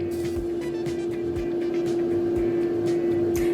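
Bathroom exhaust fan running, a steady loud hum with a strong constant tone and airy rush, continuous and close with faint rattling ticks on top.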